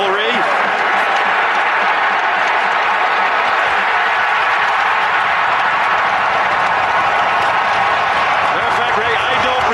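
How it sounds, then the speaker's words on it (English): A dense, roaring hockey crowd cheers and applauds continuously during a fight at an NHL game, loud and sustained throughout. "And the crowd is going crazy"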